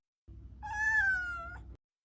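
A cat in a video game gives a single clear meow, drawn out and slightly falling in pitch, heard alone over a faint low game background.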